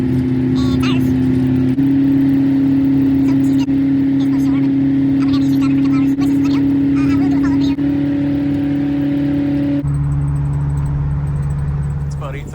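A 1968 Ford Fairlane, geared very low, driving with its engine running in the snow, a loud steady drone with shifting pitch close by, with voices talking over it.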